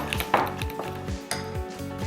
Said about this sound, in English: Give that one last stir.